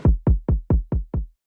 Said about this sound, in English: Over that, I then put this kick.